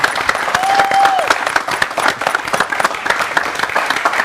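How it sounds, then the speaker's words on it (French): Audience applause fills a French arts show studio as a guest artist is welcomed, a dense steady roar of many hands clapping, loud and close, with a brief tonal whistle early on. "Applaudissements pour Larynx Official, s'il vous plaît."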